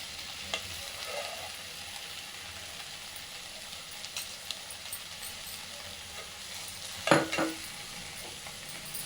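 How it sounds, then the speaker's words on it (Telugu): Egg noodles sizzle in a pan while being stir-fried with chilli sauce, a soft continuous frying hiss broken by a couple of brief spatula clinks toward the end. "తర్వాత చిల్లీ సాస్ వేసుకోవాలి."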